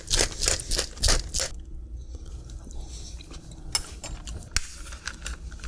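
A pepper grinder cracks pepper over a salad in a quick series of crisp, gritty grinding bursts up close, followed by quieter scattered clicks and small rustles.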